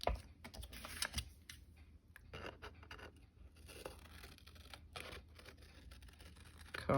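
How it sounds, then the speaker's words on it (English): Big scissors trim through fabric or paper with a series of quiet, irregular snipping and rustling cuts, close by and faint, with no talking. "Big scissors, big scissors."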